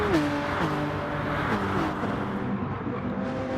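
Several car engines, including a Volkswagen Beetle, rev and shift gears in Gran Turismo Sport, overlapping whines of acceleration with no talking.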